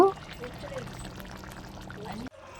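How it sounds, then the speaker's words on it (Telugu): Water is poured into a pot of chicken curry with raw cashew nuts, a steady close pour running for about two seconds before cutting off abruptly. "చికెన్ ఉడకడానికి సరిపడినన్ని నీళ్ళు కూడా వేసుకొని ఉడకనిద్దాము"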